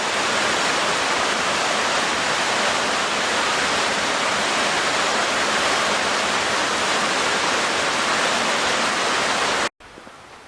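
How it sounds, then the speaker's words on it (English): A waterfall at Sweet Arrow Lake in Pine Grove, Pennsylvania, rushes in a dense, constant roar close by for nearly ten seconds, then cuts off abruptly to a quieter wash. "One last look at the waterfall, too."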